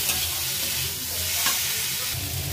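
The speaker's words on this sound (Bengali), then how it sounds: "মশলাটা একটু মিশিয়ে নিই।" Spice masala for a pumpkin curry being stirred in a pan, with a steady close sizzle and scraping of the spoon running continuously throughout, no voices.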